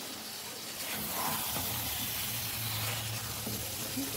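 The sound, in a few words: potatoes and fenugreek frying on high flame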